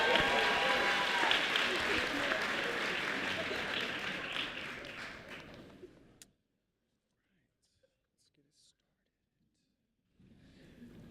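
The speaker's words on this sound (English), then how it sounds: "One more round of applause for Percy, please." Applause from a graduation ceremony crowd, loud at first and slowly fading over six seconds, then near silence before faint room sound returns.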